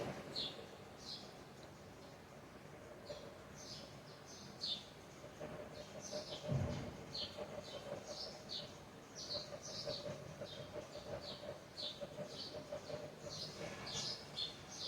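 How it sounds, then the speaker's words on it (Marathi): Faint, rapid chirping of small sparrows repeating throughout, with soft background hum and an occasional low thump. "माझ्या व्हिडिओमध्ये चिमण्याचा आवाज येतोय ना,"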